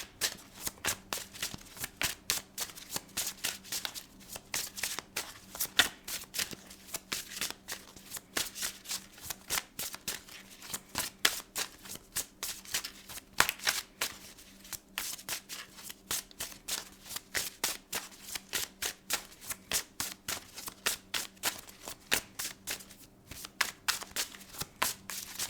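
Oracle cards shuffle by hand in a rapid, steady riffle of soft flicks and slaps, close and continuous with brief pauses as the deck is regripped, and no talk.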